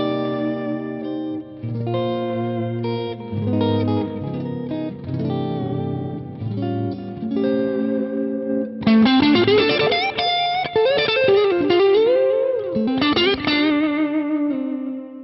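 Electric guitar phrases run through two chained Electro-Harmonix Deluxe Memory Man echo pedals at different delay times, the repeats overlapping with a light chorused shimmer and reverb tail, steady and loud with no talking.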